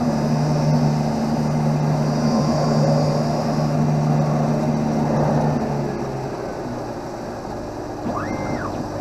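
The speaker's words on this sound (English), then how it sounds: "onto the polishing wheel and then have it go in reverse because of the way the wheel's spinning, going towards the back of the machine" Lens edging machine with its polishing wheel spinning on an eyeglass lens, a steady whirring motor drone with a grinding hiss that eases and drops in pitch partway through, followed by a short rising and falling electronic tone.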